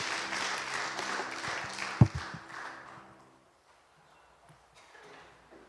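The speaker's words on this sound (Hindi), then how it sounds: "क्यों ना हम तालियों को जरा उसके स्वागत करें." Applause from a church congregation welcoming a pastor to the front during a Sunday Hindi service, a dense burst of clapping with a sharp thump at its peak, then fading to near silence.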